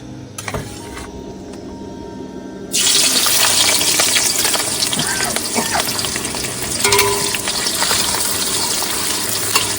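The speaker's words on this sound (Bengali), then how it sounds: "তেলও গরম হয়ে গেছে, এবার দেবো পেঁয়াজ" Onions hit hot oil with a sudden loud sizzle that continues steadily, a crackling frying hiss after a quieter start, before meat is added.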